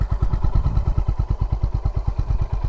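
Deep, rhythmic thumping of a 2025 Honda CB350 RS motorcycle exhaust at idle, a fast even beat of low pulses, close and loud.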